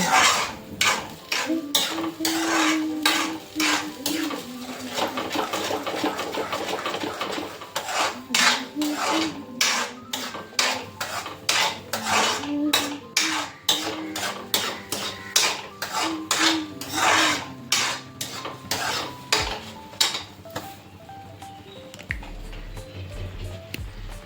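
A utensil scrapes and clinks against a pan while sweet halwa with sugar is mixed for a temple offering, fast repeated metallic strokes, loud and close, easing off toward the end.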